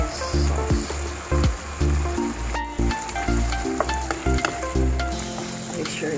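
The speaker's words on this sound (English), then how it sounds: "Okay, stir it guys. Stir and mix it well." Spaghetti being stirred through Prego bolognese sauce with shredded carrot in a hot pan, a steady close sizzle broken by repeated rhythmic scrapes and clanks of the utensil against the pan, with no talking.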